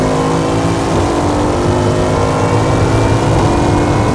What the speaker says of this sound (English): So that's a rolling launch, straight out the pits.